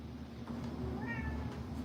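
Cat meowing indoors during a kitchen bread-baking livestream, one soft, drawn-out meow, faint and close, over a low steady background hum.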